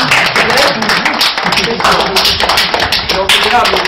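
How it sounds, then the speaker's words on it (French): An audience loudly claps for orphanage children, dense rapid clapping close by that carries on steadily, with voices mixed in underneath. "Vous pouvez applaudir les enfants."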